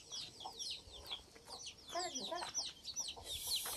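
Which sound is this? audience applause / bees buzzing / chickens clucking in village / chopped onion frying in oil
chickens clucking in village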